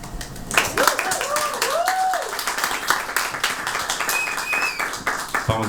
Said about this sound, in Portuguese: Palmas merecidas.